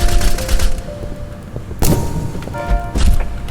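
Revolver fire in the online shooter Retail Royale, a battle royale set in a retail store: loud, close bursts of shots in quick succession, with several sharp reports spaced across a few seconds.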